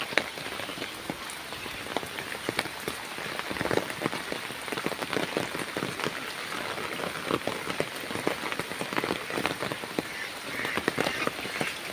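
Heavy rain pours onto flooded streets in Barisal, a dense, steady hiss of drops hitting water and hard surfaces, with scattered louder splats throughout. No voices.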